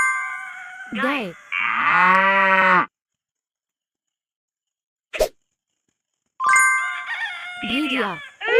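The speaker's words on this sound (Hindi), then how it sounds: "गाय।" Cartoon cow lets out one loud, sustained moo near the start. A short click comes in a pause, and more farmyard-style calls follow at the end.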